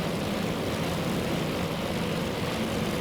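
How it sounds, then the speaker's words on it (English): Dive bomber aircraft engines drone continuously in a carrier combat video game, a loud, steady propeller roar with no break, heard alone as the planes race toward their target. "we will follow the dive bombers as they are racing towards their target"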